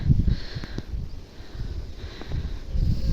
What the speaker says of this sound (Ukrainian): вітер вже такий холодний-холодний шурує